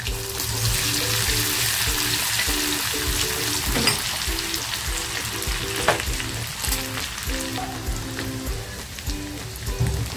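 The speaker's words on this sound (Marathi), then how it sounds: "तेल छान तापले, लसूण टाकते जी ठेचून घेतली होती।" Crushed garlic sizzles in hot oil in a pan for a pomfret khima, a dense, steady crackle and hiss that carries on throughout, with a few sharper pops and light stirring scrapes, close and fairly loud with no talking.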